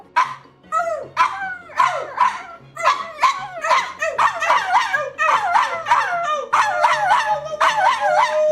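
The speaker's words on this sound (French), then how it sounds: "C'est le chien de ma meuf." A dog barks and yips repeatedly, close and loud, with short whiny howls between bursts and no talking.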